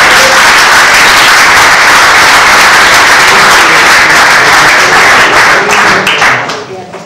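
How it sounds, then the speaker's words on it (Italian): Loud, sustained applause from a large audience at the official presentation of a basketball coach, dense continuous clapping that fades out near the end. "facciamo un grande applauso a Sandro Lamberti"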